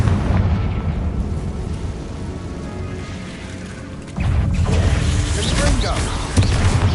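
Confringo fire spell blasts in the Hogwarts Legacy video game, a sustained rumbling explosion with a louder burst near the end, set among dense game sound and overlapping voices.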